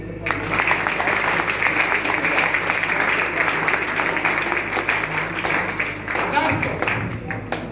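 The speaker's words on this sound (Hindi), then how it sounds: "Last topic, last 5 minute, Tali बजाइए।" A meeting audience claps together in a dense, steady wash of applause that fills the whole stretch at an even loudness, with a slight lift near the end.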